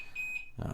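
A perimeter alarm at a bug-out location gives a steady, high electronic beep. It starts it alone, then is drowned out by a louder burst of noise near the end, with a brief spoken word.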